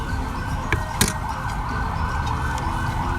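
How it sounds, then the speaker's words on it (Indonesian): A police siren sounds outside on a street in Indonesia during a meal, a steady wailing tone held throughout over restaurant background noise, moderately loud and continuous. "Nah, ada bunyi polisi ini."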